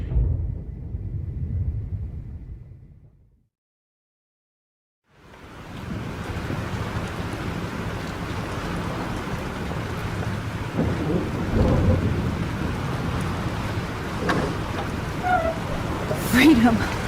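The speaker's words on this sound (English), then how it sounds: "This storm is real." A thunderstorm in the Life is Strange video game: heavy, steady rain roars alongside rumbling thunder, cuts to near silence briefly, then returns loud and dense with gusting swells.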